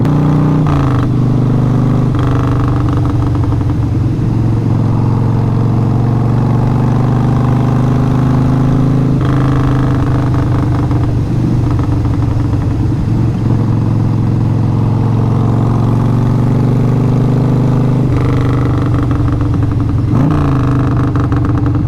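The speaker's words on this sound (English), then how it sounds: "Had to give y'all a little Harley ASMR right there." Harley-Davidson motorcycle with ape hanger handlebars, its V-twin engine loud and close, a deep steady rumble idling and revving in several swells across the whole stretch, with no voices.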